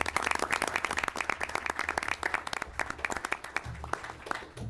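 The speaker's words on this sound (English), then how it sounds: "How about a round of applause for our students?" An audience applauds elementary school students at a school meeting: dense, steady clapping from many hands, close and continuous for the whole stretch.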